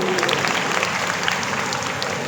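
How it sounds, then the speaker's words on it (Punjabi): A crowd at a Teeyan celebration gives a dense, steady round of applause, loud and close, sustained throughout with no pause. "ਜ਼ੋਰਦਾਰ ਤਾਲੀ ਸਾਡੀ ਭਾਬੀ ਜੀ ਵਾਸਤੇ"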